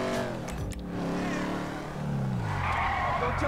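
Pontiac Firebird-style muscle car in the video game GTA 5, its engine revving with tire skidding and squeal, close and loud, while people talk over it.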